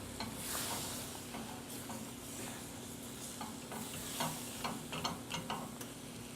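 Apples being stirred in thickening caramel sauce over low heat, a soft sizzle with repeated scraping and clicking of a spoon against the pan, quiet and close.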